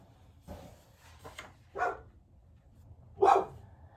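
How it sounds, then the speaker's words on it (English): A few sharp dog barks, spaced irregularly with quiet gaps between them, fairly close and clear. "Then they heard more barking."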